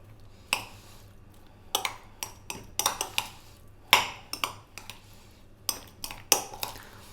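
An avocado egg mayo salad gets mixed in a bowl with a utensil, giving a series of sharp, irregular clinks and taps against the bowl, some in quick clusters, with quiet pauses between.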